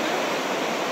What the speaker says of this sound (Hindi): टर्टल बीच समंदर है भाई और इसकी ये लहरें